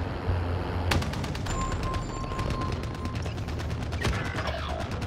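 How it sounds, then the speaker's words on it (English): Rapid bursts of gunfire batter an armored vehicle in a battle royale video game, with dense cracking shots and impacts over a steady engine rumble, a sharp burst near the start and another late on. "Enemies are attacking your armored vehicle."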